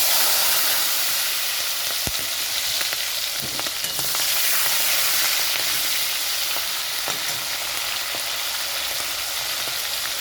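Tomato and green chilli frying in a pan for a prawn and raw banana curry, a loud continuous sizzle that stays steady throughout, with occasional light stirring knocks.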